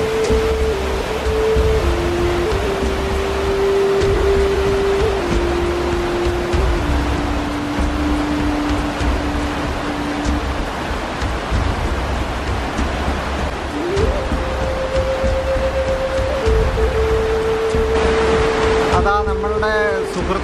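A steady, full-bodied roar of water pouring down at Elephant Killer Waterfalls in a forest, continuous and close, with a sustained humming tone and a brief voice rising over it near the end.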